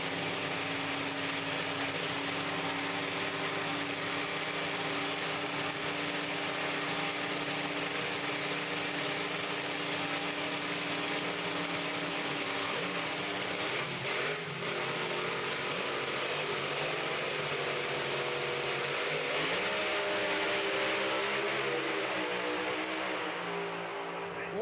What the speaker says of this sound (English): Chris is really having to go some to stop Timo getting a whole shot on him.